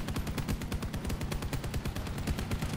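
Rapid bursts of machine gun fire in a video game, an LM-5 and rival higher-tier machine guns, sound as dense, evenly spaced shots, loud and close, with no talk over them.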